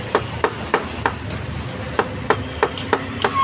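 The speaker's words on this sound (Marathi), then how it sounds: "अक्षरशः त्यांना हातोडी घेऊन ठोकावं लागत त्यांना" A hammer strikes a tight nut on a scooter in a steady run of about eleven sharp, close metallic knocks spaced roughly a third of a second apart, with no voices.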